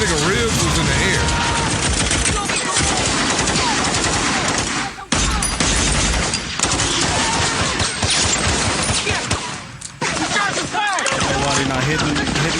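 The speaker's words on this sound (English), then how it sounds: "They shooting." Sustained gunfire from a night-time shootout scene in the crime film Dead Presidents, with loud continuous bursts and rapid shots running almost without break, a brief dip midway, with some voices mixed in.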